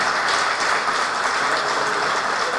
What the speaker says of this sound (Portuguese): Então eu queria que desse uma salva de palmas para o Nolasco